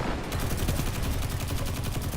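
Continuous rapid gunfire in the shooter game Destiny 2 fills the whole stretch, a dense, loud run of overlapping shots and impacts with no pause and no voices.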